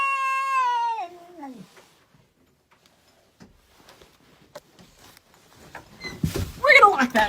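A territorial house cat guarding a room gives a loud, drawn-out meow that slides downward, falls quiet over faint ticks and rustles, then erupts into a harsher, louder yowl at the end.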